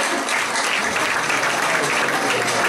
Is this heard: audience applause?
yes